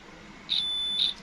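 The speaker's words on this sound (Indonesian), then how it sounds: "Pakai dioda mode atau lebih enak pakai buzzer ya. Nah, nih bunyi kan." A multimeter's high-pitched continuity buzzer beeps in two short bursts close by, with a quiet background hum and no talking.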